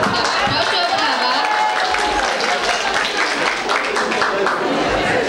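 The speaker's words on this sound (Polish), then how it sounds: "Proszę o brawa." A studio audience at a Polish televised dating game show breaks into sustained applause, a dense, steady wash of clapping with some crowd murmur and chuckles running through it.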